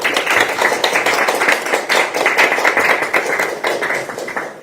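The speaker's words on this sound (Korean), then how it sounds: "여기 계신 분들께 이동현 후보를 응원하는 박수를 부탁드립니다." Dense, continuous applause from a crowd at an outdoor political rally for a Jung-gu district head candidate in Seoul, many hands clapping together at a steady loudness for several seconds, with no talk.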